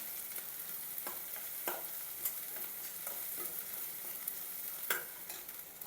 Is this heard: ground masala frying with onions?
yes